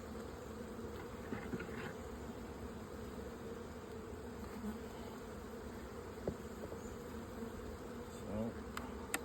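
Honeybees in an opened hive box hum in a steady, dense buzz throughout, with a few individual bees passing close and some faint handling knocks.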